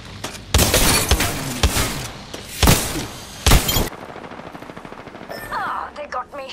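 Loud, close bursts of automatic gunfire from Apex Legends, several rapid volleys with sharp cracks, fading into quieter game sounds and faint voices near the end.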